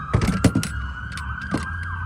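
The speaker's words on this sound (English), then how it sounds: "Sorry about the ambulance going by." An emergency siren wails steadily with a rising and falling tone, mixed with some clattering noise and broadband bursts nearby.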